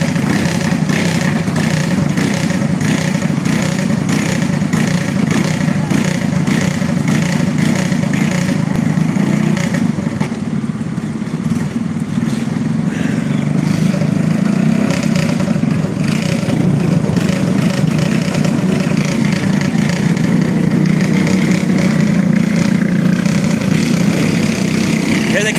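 Go-kart engines drone continuously at the 91 Short Track in Hanceville, Alabama, a loud steady buzzing rumble with a slight waver in pitch throughout.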